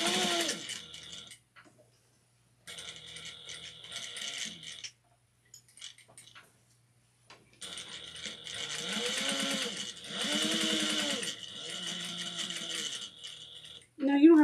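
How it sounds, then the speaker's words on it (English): A sewing machine back stitches and bar tacks a wristlet, running in several close, steady bursts of rapid stitching separated by short pauses, with a brief voice at the very end. "I'm gonna back stitch at the beginning and the end and just do a quick little bar tack"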